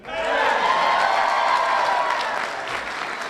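A large university crowd breaks into sustained applause and cheering, swelling quickly and then holding loud and dense before easing slightly toward the end.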